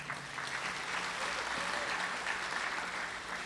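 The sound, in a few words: audience applause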